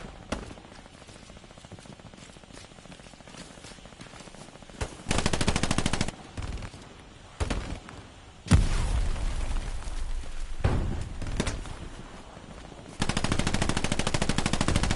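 Machine gun fire from a multiplayer shooter video game rattles in long, loud, rapid bursts with gaps between them, alongside quieter distant shots and impacts.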